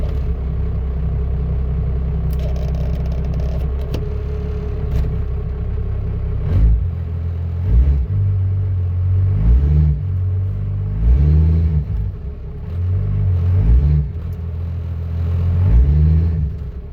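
A car that has sat unused for a while idles with a low rumble, then is put in gear and revved in repeated surges, each swell rising and falling over a steady engine drone, close by with no talk.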